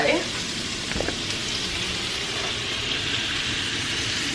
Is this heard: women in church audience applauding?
no